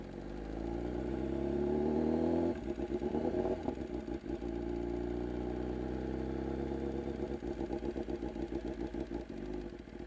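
A motorcycle engine runs steadily with the clutch pulled in, giving a continuous close, throbbing idle with a rhythmic low pulse and a slight change in note partway through.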